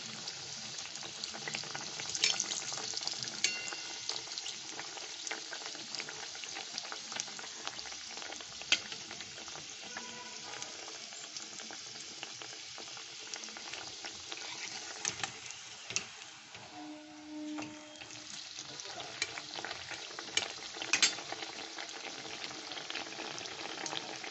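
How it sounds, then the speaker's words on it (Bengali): A stuffed semolina snack fries in oil in a pan over medium heat, giving a steady crackling sizzle throughout with occasional stirring and scraping sounds, close and fairly loud. "ভাজছি"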